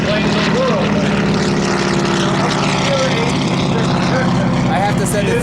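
Many propeller airplanes departing at the Oshkosh airshow, a loud continuous engine drone with harmonic tones shifting throughout, while people talk over it.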